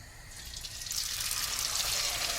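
Poori dough dropped into hot oil for deep frying, giving a steady bubbling hiss that swells and stays loud and close, with no talking.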